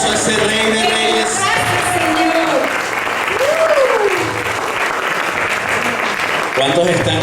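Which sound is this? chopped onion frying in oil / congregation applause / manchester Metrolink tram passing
congregation applause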